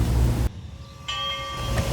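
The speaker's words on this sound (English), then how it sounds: "So this is 102 pulling out, so enjoy this clip." Locomotive 102 pulls the noon train out at a railroad museum, a loud rumbling with a steady mechanical drone and a faint ringing tone, close by.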